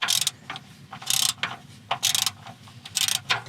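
A hand ratchet clicks in quick bursts while loosening a 12 mm bolt on a vehicle's starter, the sharp pawl ticks coming close and clear in repeated strokes with short pauses between.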